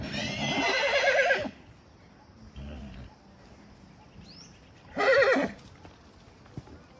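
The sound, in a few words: horse neighing and hooves clip-clopping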